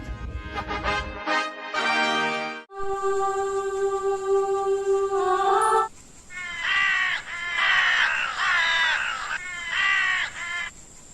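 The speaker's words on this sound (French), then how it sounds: "Le croissement d'un corbeau m'a réveillé brusquement." Several loud, harsh crow caws in a run of repeated calls, clear and close, following earlier tonal sounds, with no talking.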